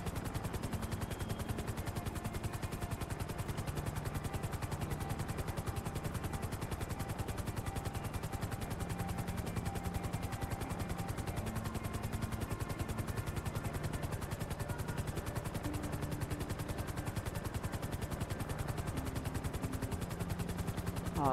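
A helicopter in GTA 5 gives a steady, rapid rotor chop with a constant whine, loud and unbroken throughout, with no speech.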